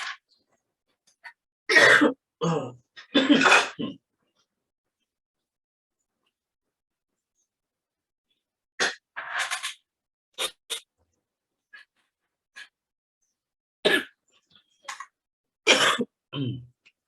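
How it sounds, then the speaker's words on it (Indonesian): A few separate bursts of coughing and throat clearing, close and dry, with long stretches of silence between them. "Maaf, saya terbatuk-batuk ini."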